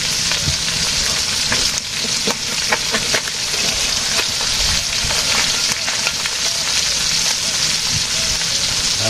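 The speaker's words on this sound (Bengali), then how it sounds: "আর একটু ভাজি হবে, মাছ ভাজি হয়ে গেছে" Fish frying in a pan in a village kitchen, a loud, dense crackling sizzle throughout with rapid popping and occasional stirring scrapes, close.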